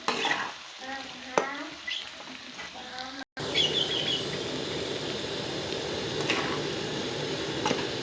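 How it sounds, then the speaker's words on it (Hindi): Garlic fries in a pan with a steady, close sizzle, stirred with a few scraping clinks at first before the hiss settles into a continuous crackle. "लहसुन को भी इसी में फ्राई करना है।"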